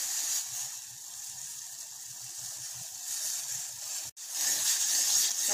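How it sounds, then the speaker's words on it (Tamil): Tea boiling hard in a pot over a high flame, a steady broadband bubbling hiss with soft low gurgles, continuous and close, briefly cut off near the end before resuming. "டீ ஒரு நிமிஷம் ஹை ஃப்ளேமில் வச்சு நல்லா கொதிக்க விட்டுட்டோம்."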